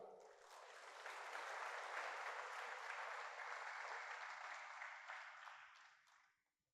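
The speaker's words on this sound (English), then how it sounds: "Give him a clap." An audience at a church anniversary celebration applauds an actor in a steady, dense burst of clapping that swells quickly, holds for several seconds and fades out near the end.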